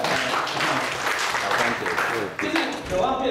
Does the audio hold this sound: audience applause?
yes